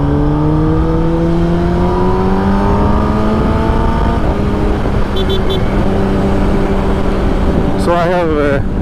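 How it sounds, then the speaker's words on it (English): A Kawasaki ZX10R superbike on new Vredestein tires accelerates hard in full power mode, its engine note climbing steadily through the gears as a loud, close, continuous roar with wind rush, and a brief voice near the end. "So that's full power mode on the new tires."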